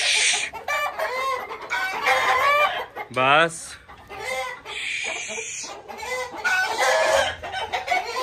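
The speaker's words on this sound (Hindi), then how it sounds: "अंदर मुर्गे भी बोल रहे हैं।" Roosters crow and hens cluck inside a pen, with one rising crow standing out clearly among busy, close clucking and squawks, while someone talks briefly.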